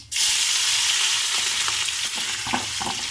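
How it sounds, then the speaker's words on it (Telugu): Green chillies, onion and curry leaves sizzle steadily in hot oil, a loud continuous frying hiss starting abruptly after a brief pause, with faint stirring clicks toward the end. "ఒక్కొక్కటి పచ్చిమిర్చి వేస్తున్నాను"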